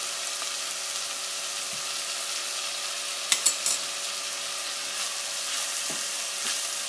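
Minced meat browning with tomato paste in a pan for spaghetti Bolognese gives a steady, fairly quiet sizzle throughout, with a few brief stirring knocks partway through.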